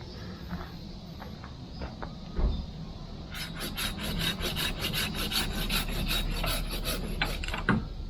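A tapered Japanese hand saw cuts through wood in steady, rapid rasping strokes that start partway in and continue to the end, with a few soft knocks before the sawing begins.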